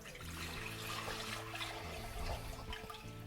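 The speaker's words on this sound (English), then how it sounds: "into a bowl, I'm going to place in about 2 litres or half a gallon of water" Water pours steadily into a bowl, about 2 litres, a continuous splashing rush that stays fairly even for a few seconds with no voices.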